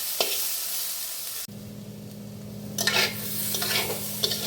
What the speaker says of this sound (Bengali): সমস্ত মশলাগুলো আমি আরেকবার নাড়াচাড়া করে নিচ্ছি।